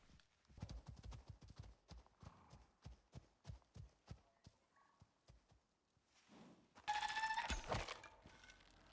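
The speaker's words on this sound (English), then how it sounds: "I'm going to have to go and take the horse out" Steady clip-clop of horse hooves trotting at an even rhythm in the game Icarus, fading briefly before a louder burst of hoofbeats and clatter near the end.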